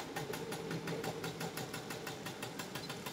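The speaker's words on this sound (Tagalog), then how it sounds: "Ang lakas ng tunog. Malakas makina." Classic European motorcycle engine idling loudly nearby, a steady mechanical chugging with rapid rhythmic pulses and vibration throughout, no talking.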